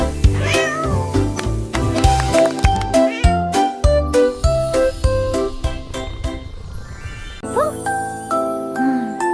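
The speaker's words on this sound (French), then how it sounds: "Miaula fort le grand félin." A cat meows loudly and repeatedly over busy tinkling, jingly children's nursery-rhyme music, with a few rising yowls near the end.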